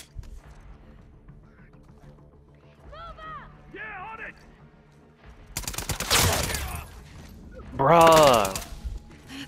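Gunfire in The Last of Us Part II, a burst of broadband shots in the middle of the clip, near and loud, with someone talking before and over it and game ambience beneath.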